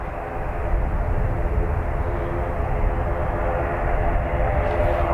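An ATR turboprop airliner at Dublin Airport drones steadily with a broad, sustained engine roar and tonal hum, fairly loud and continuous throughout.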